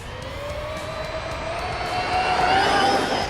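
A stock RC car revs at full throttle on a speed run, a rising high-pitched motor whine that climbs steadily in pitch and grows louder as the car accelerates past, with no talking.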